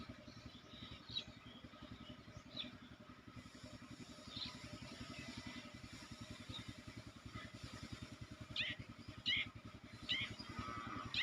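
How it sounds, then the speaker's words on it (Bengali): A motorcycle runs along a road at a border checkpoint area with a low, pulsing engine drone that sits faint in the distance, with occasional light clatter and no speech. "ওই যে একটা মোটরসাইকেল যেতেছে।"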